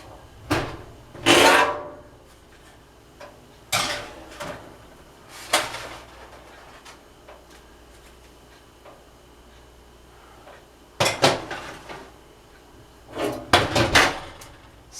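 A tray of chocolate candy marshmallow cookies goes into a home kitchen oven: a few separate clunks and scrapes of the door and rack, loud and close, with quiet gaps between them.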